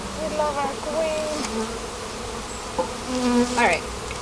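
Honeybees buzz in a dense, close swarm while a package of bees is installed into a hive, their droning hum rising and falling, with a few brief louder whines as individual insects pass near.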